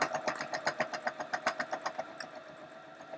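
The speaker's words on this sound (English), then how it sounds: "I'm going to carry on now. So I've just turned my third corner and I'm going to keep sewing down" Sewing machine stitching a tea bag wallet, a steady run of quick rhythmic thumps close by that softens toward the end, with no talking.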